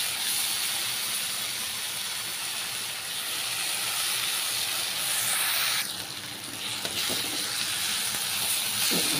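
Soaked dried fish (sukat) tipped into a hot wok, raising a continuous broad hissing sizzle that dips briefly in the middle then surges back, close and fairly loud.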